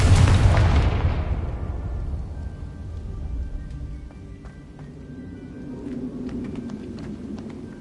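A Confringo fire spell detonates in Hogwarts Legacy with a loud, close boom that decays over a couple of seconds into a low rumbling tail, with faint scattered clicks and ticks afterward.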